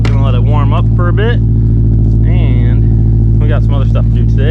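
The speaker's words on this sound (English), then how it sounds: "Car's all shoveled out. Gonna let it warm up for a bit." A car idles steadily while warming up after being shoveled out of snow on a cold day, its low engine drone running continuously beneath a person talking.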